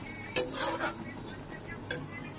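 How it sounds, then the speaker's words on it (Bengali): Two sharp metal clinks of a spoon against a pan, with a soft stirring hiss of a tomato spice paste frying between them, close and quiet. "মশলাটাকে একটু ভালো করে ভেজে নেবো"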